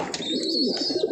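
Red checker pigeons cooing close up, a brief burst of warbling coos over a soft background.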